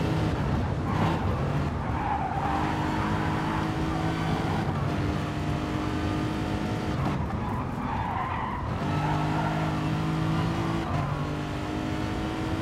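In a racing video game, a race car laps the Brands Hatch GP circuit during an endurance race, its engine droning and shifting pitch through gears with repeated tyre squeals, alone and close.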